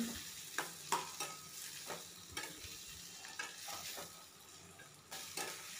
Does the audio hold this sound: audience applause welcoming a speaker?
no